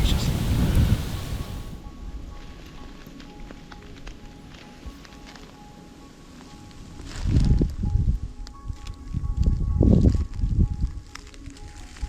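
Wind gusting across an open hillside during a deer hunt, buffeting the microphone with low rumble that swells and fades in several gusts, close and fairly loud throughout.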